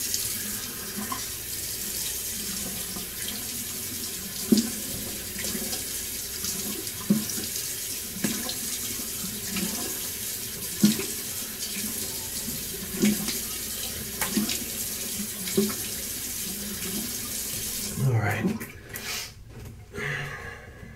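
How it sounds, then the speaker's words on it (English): Tap water runs steadily into a sink as a face is washed after shaving, with splashes and hand-scooping surges recurring every few seconds before the flow stops near the end. "Just wash my face off and then the aftershave"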